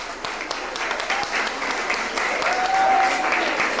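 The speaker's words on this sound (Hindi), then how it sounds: "मैं आप लोगों से दरख्वास्त करूंगा कि इनके लिए भरपूर तालियां बजाएं।" An audience at a Pakistan Independence Day celebration applauds warmly, a sustained, even patter of many hands filling the room, with some faint voices and a brief tone beneath.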